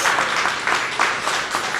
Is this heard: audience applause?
yes